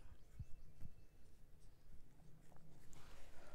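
Pen or marker strokes while a differential equation is worked out by hand, faint scratchy writing sounds with a couple of brief taps early on, low and steady against quiet room noise.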